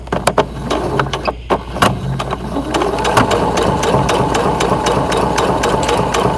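A sewing machine stitches fabric for a face mask, starting with a few separate clacks and taps, then settling into a fast, even mechanical whir close by, with no talking.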